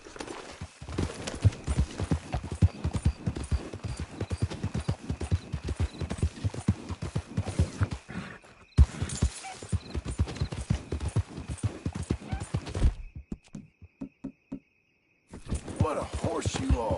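Rapid, steady clip-clop of horse hooves trotting in Red Dead Redemption 2, close and continuous, breaking off briefly twice before resuming, with faint insect chirping in the background.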